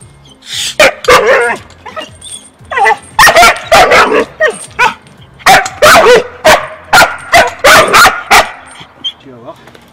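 Border Collie dog barking repeatedly in sharp, loud bursts, with some yips and whimpers mixed in, close by; a person's voice is heard between the barks.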